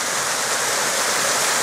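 Waterfall at Ryuou-no Taki shrine in Japan, a steady, dense rush of falling water heard up close, constant and fairly loud with no talking.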